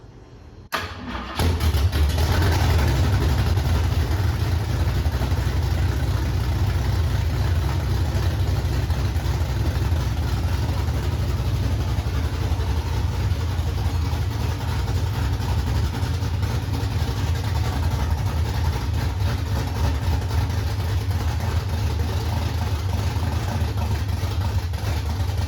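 A freshly built engine in a 1968 Ford Mustang, not yet run up to temperature, fires up and then runs loud and steady with a deep, rumbling idle that continues unbroken to the end.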